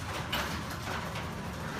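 A LiftMaster garage door opener runs after a wall button press, giving a steady, continuous mechanical drone and rattle that carries evenly from start to end with no talk over it.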